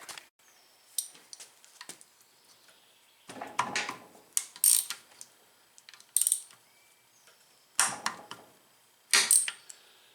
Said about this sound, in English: get these other bolts off. Yep. Be able to get the oil pan off.